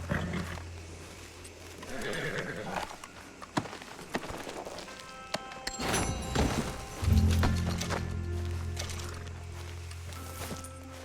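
Horse hooves clip-clop on a dirt road in Red Dead Redemption 2, irregular steps heard close up alongside snorts, shifting movement and other game sounds.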